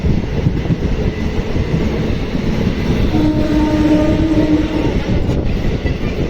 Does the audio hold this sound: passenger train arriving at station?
yes